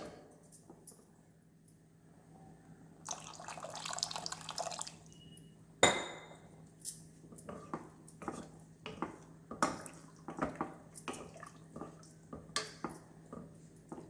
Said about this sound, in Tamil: இனி கொஞ்சம் தண்ணி ஊற்றிக்கலாங்க.